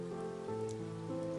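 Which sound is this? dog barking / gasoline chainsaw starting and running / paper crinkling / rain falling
rain falling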